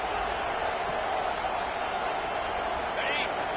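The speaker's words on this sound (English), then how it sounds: "This crowd bringing the energy and noise early." Steady roar of a stadium crowd at a college football game, a dense wash of cheering and noise that holds loud and constant throughout.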